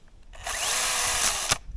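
Makita 18 volt cordless power drill spins up for about a second outdoors in the Flinders Ranges, a close, high-pitched whine that cuts off abruptly.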